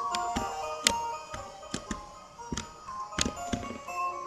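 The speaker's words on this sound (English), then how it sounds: "The Doppler effect is, as sound travels towards you, it can sometimes cascade over itself, creating an interesting effect" Tinkly looping music-box melody, faint and slightly warped, with sharp ticking taps sounding at irregular intervals over it.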